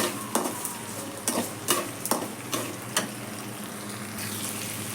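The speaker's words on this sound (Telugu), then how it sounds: "కొంచెం మెత్తబడే వరకు ఫ్రై చేసుకోవాలండి." Chopped tomatoes frying in oil in a pan for a ridge gourd and chana dal curry, a continuous sizzle broken by a series of sharp clicks and scrapes as a spoon stirs against the pot.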